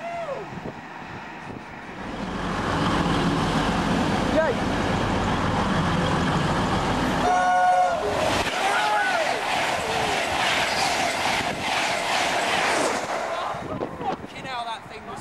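A Voyager passenger train passes at Northallerton station with a loud, sustained roar and rumble that swells for about ten seconds, then fades. There is chatter nearby.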